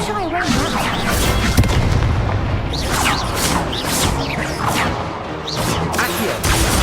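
Confringo blasting curse from Hogwarts Legacy: a run of booming, crashing magical explosions and whooshing spell blasts fills the clip over a busy, loud combat soundscape.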